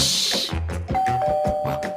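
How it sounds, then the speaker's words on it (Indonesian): A doorbell rings in a home, a series of chime-like tones with one sustained ringing note partway through, fairly loud and close, with no talking. "Bunyi bel lagi."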